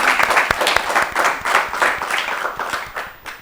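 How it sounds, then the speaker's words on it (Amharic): A studio audience on an Ethiopian children's quiz show claps for a contestant, a brisk burst of close, dense applause lasting a few seconds before thinning slightly. "እሺ አጨብጭቡለት።"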